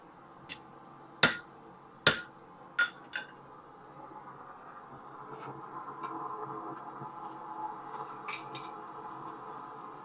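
Hammer blows ring out on the horn of an anvil while forging metal, a few sharp metallic strikes with short ringing decay near the start, then quieter scattered taps over a low background hum.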